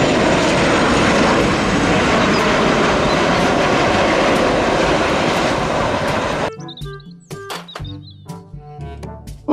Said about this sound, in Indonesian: Pesawat terbang.